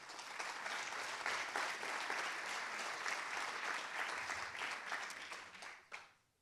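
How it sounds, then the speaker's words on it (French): Conference audience applauding to welcome two speakers, a sustained dense clapping from a full room that holds steady and then fades out quickly at the end. "Je vous demande d'accueillir sous les applaudissements Blandine Legendre et Laurine Coufignal."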